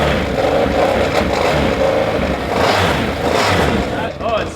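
A cheap used Can-Am running, a steady engine drone with slight rises in pitch, close and loud, with people talking over it.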